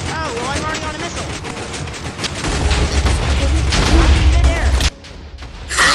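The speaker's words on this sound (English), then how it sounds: "Oh god, TNT!" TNT blasts in a Minecraft Missile Wars match, a dense barrage of loud overlapping booms and crackling explosions that swell midway and cut off abruptly near the end, with game effects layered throughout.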